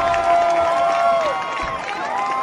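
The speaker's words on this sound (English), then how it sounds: "You know the crowd's going to be into it." Spectators at a girls' high school soccer championship cheer and shout in a steady, noisy roar, with whistles and raised voices over a match commentator talking.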